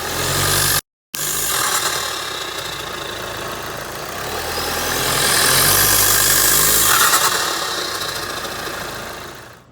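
A car engine with a KermaTDI turbo inlet pipe hums steadily with a low rumble that swells and eases slightly, heard from close by with a brief cut near the start.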